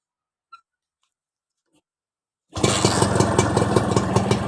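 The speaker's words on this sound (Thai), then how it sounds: "เดี๋ยวลองฟังเสียงเครื่องดูนะครับ" A Honda Tena motorcycle engine, newly rebuilt, starts up after a couple of faint ticks and runs loud and steady with a rapid, even throb from mid-clip to the end, close by.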